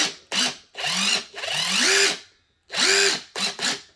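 A cordless Nuron impact driver revs in short bursts, several quick whirring pulses that spin up and wind down, loud and close, with brief pauses between.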